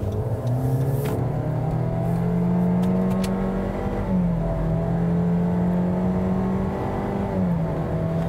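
A 2017 Honda CR-V engine with a CVT revs loudly and steadily while driving, its drone rising and holding with brief dips like mimicked shifts, alone with no talk.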